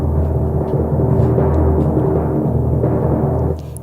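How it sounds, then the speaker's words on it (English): Timpani from the Kontakt factory library in an epic orchestral arrangement, a dense low rumble sustained at steady loudness for several seconds before dropping away near the end, with no voices. "this is the timpani"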